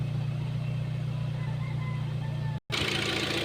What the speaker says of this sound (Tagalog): Matining naman ang andar ng kanyang makina, kaya lang may usok doon sa tambutso